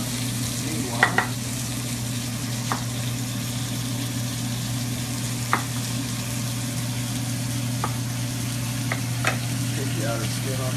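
Food being stirred as it fries in a pan for beef and pork roulade: a continuous sizzle with a few sharp utensil scrapes and clinks, over a steady low hum.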